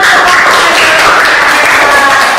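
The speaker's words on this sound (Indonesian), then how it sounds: "Kasih tepuk tangan" Schoolchildren in a classroom clap together, a loud, continuous rattle of many hands at close range with no clear pause.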